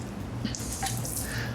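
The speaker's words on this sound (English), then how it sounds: "I'm rinsing the dirt down the side of the barrel" Water from a hose or bucket splashes and runs steadily over a dirty car wheel being washed, with a soft continuous trickle and a few brief drips near the mic.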